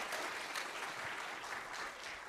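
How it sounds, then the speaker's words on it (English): An audience of parents at a Grade 4 school theatre festival applauds steadily, a continuous wash of clapping heard from a distance at a moderate level. "Guys, can you just clap for parents being here?"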